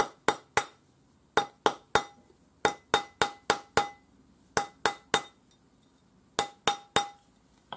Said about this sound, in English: I'm going to use a rawhide hammer